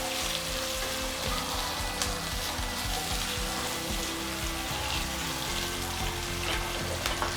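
Green chillies and medium onions fry in a pan, making a steady dense crackling sizzle, close and continuous with no talk over it.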